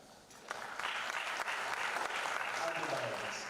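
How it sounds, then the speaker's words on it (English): Audience applause rises in a room at a science conference session and holds as a steady, moderately faint patter of many hands, with some voices beneath it. "Give me a big clap."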